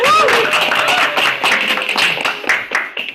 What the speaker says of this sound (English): Please a round of applause for Toastmaster Yus again.